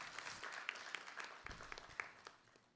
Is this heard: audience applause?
yes